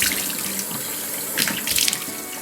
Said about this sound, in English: And then rinse.